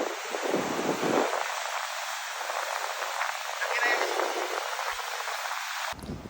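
Strong wind roars steadily across the microphone while fishing, a constant rushing buffet that cuts off abruptly near the end.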